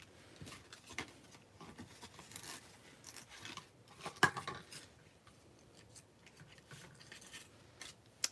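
Scissors snip through paper during a paper-craft session, making a string of close, crisp cuts and rustles with a few sharper clicks, and no one talking.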